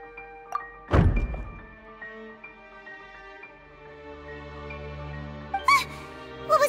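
A decoration is knocked over in the Genshin Impact video game and gives one sharp, hollow thud. Soft background music plays under it, and a few light chimes follow later.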